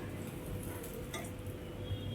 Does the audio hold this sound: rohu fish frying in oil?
yes